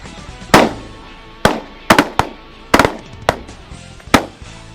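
Shotgun blasts ring out over an open field during a duck hunt in Oklahoma, seven or eight sharp, loud reports fired in quick irregular bursts, some nearly doubled, with no talk between them.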